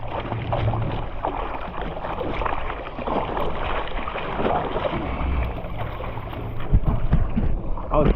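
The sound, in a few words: paddling a stand up paddleboard through water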